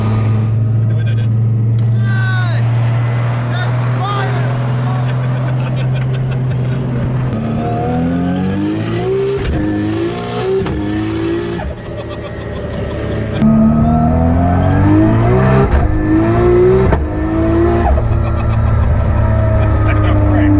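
Nissan Skyline GTR street car with a 900 hp 2.8-litre stroker engine and HKS T51R turbo revs hard, loud and close, rising and falling over steady idle rumble, with people talking nearby.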